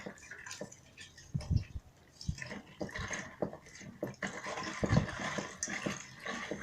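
Powder being stirred into water for emulsion paint mixing gives irregular sloshing and splashing, with heavier liquid surges and drips, close by and continuous.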